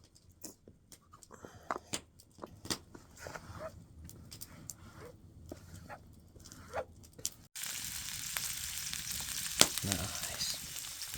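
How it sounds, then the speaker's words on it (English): Pancake batter sizzles in a frying pan outdoors on a frosty night at a lean-to shelter, with scattered clicks and knocks first, then a louder, steady frying hiss that fills the last few seconds. "And there is my pancake mix warming up."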